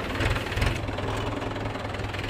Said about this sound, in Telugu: ఇప్పుడైతే నేను దున్నేందుకు పోతున్నా మన ట్రాక్టర్ మీద